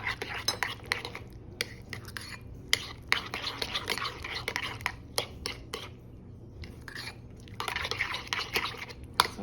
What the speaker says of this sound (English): I'm gonna mix up my sauce here, my burger sauce.